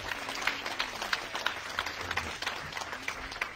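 A church congregation claps together in a dense, steady round of applause, many hands at moderate loudness filling the room with no distinct voices.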